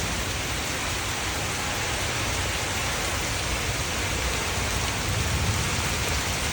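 Heavy rain with wind in Bhairab pours steadily as a dense, continuous roar, loud and unbroken, with no voices present.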